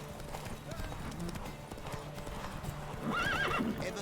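Hoofbeats of Roach, a horse in The Witcher 3, clip-clop steadily throughout alongside game sounds, with a whinny near the end; a voice is faintly present.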